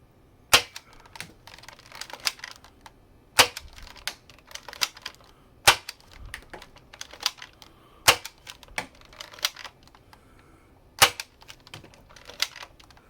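A Nerf Hammerstorm blaster fires darts at a target about 40 feet away, indoors, giving sharp spaced snaps every couple of seconds with lighter clicks and rattles of the mechanism between shots.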